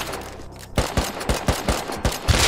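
Rapid gunfire in the survival game Rust, a series of sharp, regularly spaced shots after a brief lull, loud and close with a rhythmic burst pattern and no talking.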